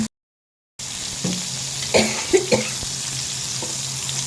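Eggplant slices fry in oil in a pan, a close, steady sizzle after a moment of silence, punctuated by a few soft knocks and scrapes of a spatula.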